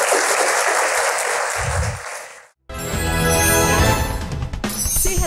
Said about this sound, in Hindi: कोई ताली तो बजा दो